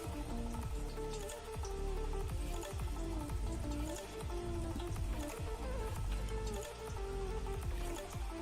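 Soy sauce poured into a chowmein sauce mix, giving soft wet dribbles and small drips, faint and close, with a few squishy splashes against a low background rumble.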